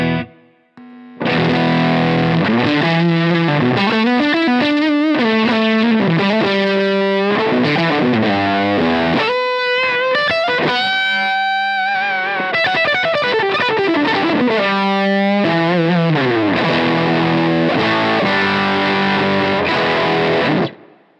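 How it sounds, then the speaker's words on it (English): An electric guitar played through a JHS 3 Series fuzz pedal, with the fuzz fully up and the bias turned down, gives loud, thick, saturated chords and riffs. It plays steadily for about twenty seconds, with short breaks and some sustained notes. "I'm going to crank the fuzz all the way up."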